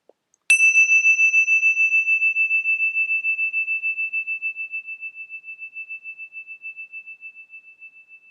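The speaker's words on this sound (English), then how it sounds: "then we'll begin the meditation with a bell" A single meditation bell strikes once, then rings out with a clear sustained tone that slowly fades and wavers over several seconds in otherwise silent surroundings.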